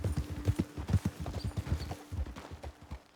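Horses' hooves clip-clop in steady, overlapping rhythm at close range in Red Dead Redemption 2, several riders on a path, sounding alone without talk.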